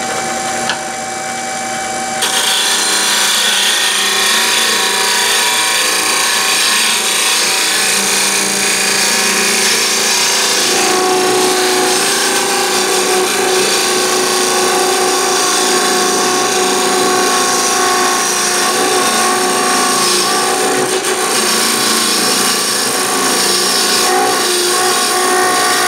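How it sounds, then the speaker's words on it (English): A wood lathe spins at high RPM on a closed-form turning while the cutting tool moves slowly across the piece to clean up tear out, producing a loud, continuous whirring hum with a steady scraping cut and no pauses. "By running at a higher RPM and moving my tool slower, I can correct any of that tear out that just happened."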